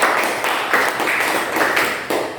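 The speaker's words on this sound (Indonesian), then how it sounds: "Mari kita tepuk tangan." A class claps together in a classroom, a close, steady patter of many hands that runs throughout with slight surges and no break.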